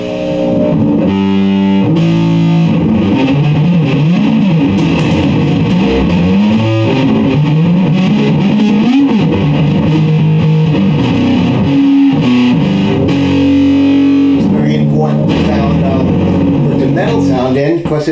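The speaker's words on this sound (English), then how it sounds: "It's the bass guitar." A heavily distorted bass guitar plays a loud, continuous buzzing riff with shifting notes that runs throughout, mixed with other effects-laden sound.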